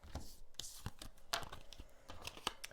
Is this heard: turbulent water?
no